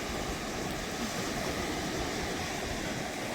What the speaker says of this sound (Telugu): అలలు కూడా ఉన్నాయి.